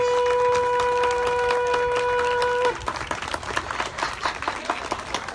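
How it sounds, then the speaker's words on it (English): Applause from an audience at an outdoor mural and plaque dedication ceremony marking 150 years of women's suffrage, a steady clatter of clapping that starts under sustained tones, then continues alone with scattered individual claps. "Let's give one big round of applause for everyone involved here and for 150 years of women's suffrage."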